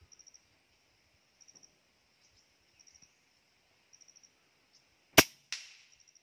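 A PCP air rifle fires once with a sharp, loud crack, followed a split second later by the smack of the pellet hitting the target. Faint crickets chirp in rhythmic bursts in an otherwise quiet outdoor setting.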